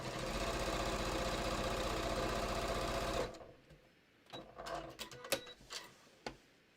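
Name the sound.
sewing machine stitching a quilted batik hat seam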